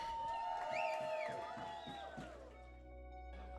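Wedding guests at Devon and Chloe's reception cheer and whoop together after a toast, a lively crowd of overlapping voices that swells early and then thins out toward the end.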